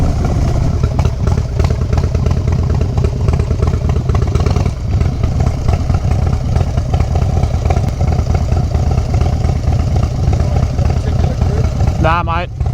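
Motorcycles ride together on a Christmas toy run group ride in Townsville, engines droning loud and continuous with rumbling exhaust and rising revs, a brief whistle-like tone near the end.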